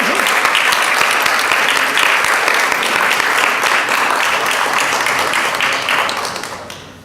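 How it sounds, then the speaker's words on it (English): Sustained applause from a crowd at an honor session, steady and loud throughout as the assembly claps for the board of directors, tapering off in the final second. "raise so that we can give you a round of applause"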